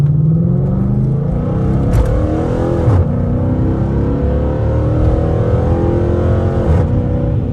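A Dodge Charger R/T's 5.7-litre V8, rated at 370 horsepower, revs and accelerates up close, a loud, steady rumble whose pitch climbs and falls through several pulls without any talking.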